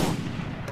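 Gunfire in a sniper shooter video game, a dense burst of low booming shots filling a short moment, loud and close with no talk over it.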